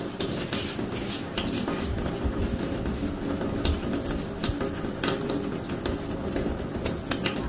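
Water runs steadily from a faucet into a sink during hand washing, a continuous close splashing hiss with small clinks and knocks mixed in.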